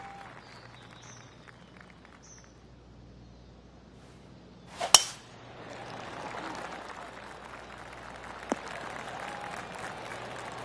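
Polite golf clap from the gallery at Bay Hill in a PS5 golf game: a brief burst of clapping rises around the five-second mark, then a soft crowd murmur carries on quietly under the broadcast-style ambience.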